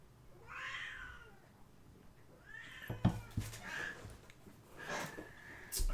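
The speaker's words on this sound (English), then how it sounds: "Forgive the cats." Several cats meow in short separate calls throughout, fairly close, with a few sharper clicks and taps around them and no talking.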